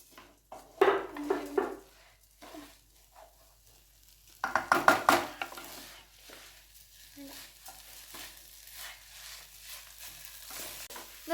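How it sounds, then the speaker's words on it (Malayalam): Rice is stir-fried in a pan for egg fried rice: bursts of spatula scraping and clattering against the pan rise over a faint sizzle, with quieter stirring between them. "ഇനി നന്നായിട്ട് വറുത്ത് കൊടുക്കുക അരി"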